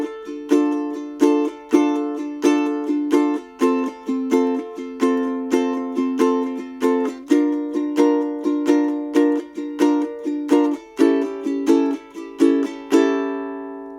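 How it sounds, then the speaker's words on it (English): Bright plucked ukulele strums in a steady rhythm, with quick groups of three strokes falling between single strums, played close and clear with no voices. "there's actually triplet strums that happen here"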